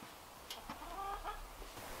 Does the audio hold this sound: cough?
no